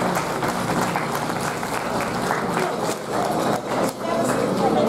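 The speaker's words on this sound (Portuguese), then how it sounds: "Um aplauso para eles, então." Folk festival audience applauding a folk dance group, a thick, continuous roar of clapping from a large crowd, loud and steady with slight dips near the end.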